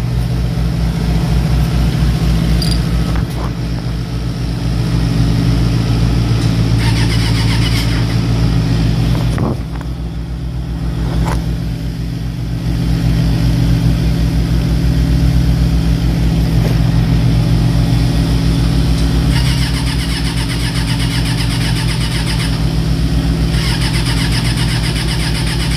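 A Ford Bronco truck's engine runs steadily in cold weather, a deep idle with a brief dip and a couple of revs, close and loud throughout without talk.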